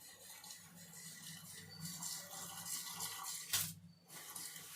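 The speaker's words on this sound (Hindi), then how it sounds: "तो मैंने कढ़ाई में एक कटोरी पानी डाल दिया है।" Water from a bowl splashes and gurgles into a kadhai, a soft, faint stream running for several seconds with a brief louder splash near the end.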